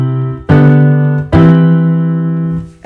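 A passing 6/4 chord progression played as three sustained chords in succession, each struck cleanly and left ringing, close and clear with no talking.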